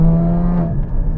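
A 2016 Porsche Cayman GT4 engine blips through a quick downshift, a close, loud burst of revs with a steady tone that dips and rises again.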